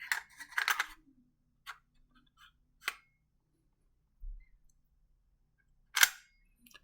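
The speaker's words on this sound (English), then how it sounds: "we'll drop in the other piece of the bolt so that the lip fits into the little dovetail" A bolt piece of a Ruger LC 10mm pistol drops into place during reassembly, giving a few quiet, sharp metallic clicks and taps spaced apart in near silence, with no talking.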